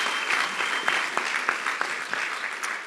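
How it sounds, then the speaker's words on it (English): Brief burst of audience clapping in a hall at a national grand final, close individual claps standing out over a thinner crowd of applause. "give him a big round of applause"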